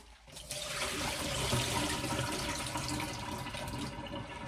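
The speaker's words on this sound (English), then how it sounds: "let me drain off the water real quick" Water drains off soaking radish greens and leftover red cabbage in a home kitchen sink, a steady close splashing rush that holds at even loudness for several seconds.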